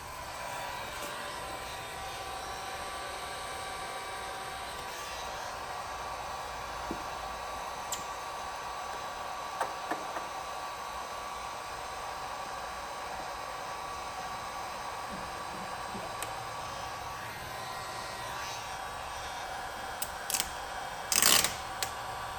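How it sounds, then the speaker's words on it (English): A steady, even blowing roar of a heat gun on low or hair dryer on high, warming headlight tint film on a GMC Sierra 1500, runs throughout, broken by a few faint clicks and handling sounds. "Heat gun, low setting, hair dryer high setting."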